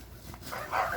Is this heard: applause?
no